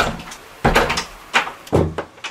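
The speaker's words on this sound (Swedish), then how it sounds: "Stäng den här dörren för att få fucking panik." Door in an abandoned building shut with several heavy wooden thuds and rattles, close and loud, a few knocks spread over two seconds.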